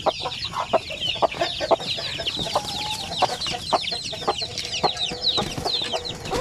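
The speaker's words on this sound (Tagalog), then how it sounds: "Yan po ang mga sisiw" Busy clucking and peeping from a native hen and a flock of about twenty native chicks, with many short chirps over soft continuous barnyard murmur.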